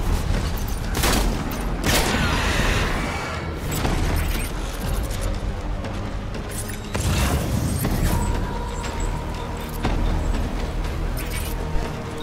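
Gunfire in the Death Stranding video game comes as loud, sharp bursts and a sustained fusillade across the whole stretch, with heavy booms and mechanical clatter mixed in.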